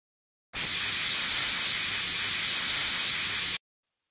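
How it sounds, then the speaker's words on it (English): A steady, loud hiss of aerosol spray runs unbroken for about three seconds, starting and stopping abruptly, with silence before and after. "I could spray paint her hair."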